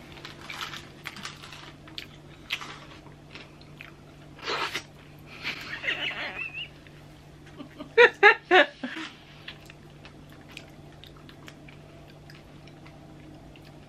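Biting into a crunchy mango peach pie gives a short burst of close crisp crunches in the middle, between quieter rustling and handling noises.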